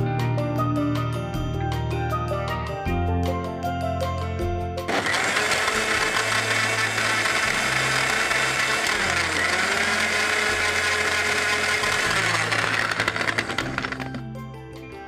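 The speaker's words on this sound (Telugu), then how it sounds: "సో ఇప్పుడు మళ్ళీ దీన్ని మనం మిక్సీ పట్టుకోవాలి." A kitchen mixie grinder blends a fresh cream and milk-cream mixture, its loud whirring motor kicking in after several seconds of background music, running steadily for about eight seconds, then cutting off.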